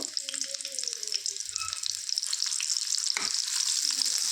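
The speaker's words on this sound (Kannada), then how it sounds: "ಎಣ್ಣೆ ಬಿಸಿ ಆದಮೇಲೆ ಒಂದು ಚಾಪ್ ಮಾಡ್ಕೊಂಡಿರೋ ಈರುಳ್ಳಿನ ಹಾಕ್ಕೋತೀನಿ ಚೆನ್ನಾಗಿ ಗೋಲ್ಡನ್ ಕಲರ್ ಬರೋವರೆಗೂ ಫ್ರೈ ಮಾಡ್ಕೋಬೇಕು" Chopped onion frying in hot oil for a hotel-style pea kurma, a bright steady sizzle that grows louder and denser, with a brief stir or clatter partway through and no speech over it.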